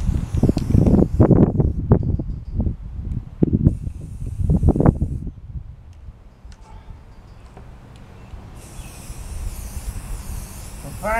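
Spray primer from an aerosol can is applied to a van's luggage rack: a few seconds of clattering handling knocks give way to a steady, fairly close spray hiss.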